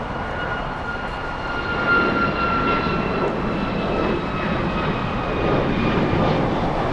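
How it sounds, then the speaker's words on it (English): A United Airlines jet airliner takes off at LAX, its engines producing a steady, powerful roar with a faint high whine, heard from a distance and holding constant throughout. "Let's go for the takeoff. United Airlines 1573 flying to Dulles."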